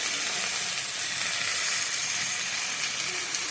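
Vegetables and a fish head sizzle in a pan while being sautéed, a steady close hissing fry that holds at an even level throughout.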